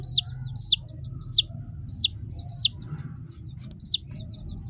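A young Thai-breed chick being handled for sexing on a poultry farm chirps high and shrill about seven times in a steady rhythm, close by, over a low background rumble.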